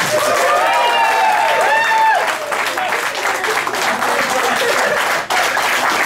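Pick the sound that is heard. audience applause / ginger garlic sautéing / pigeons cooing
audience applause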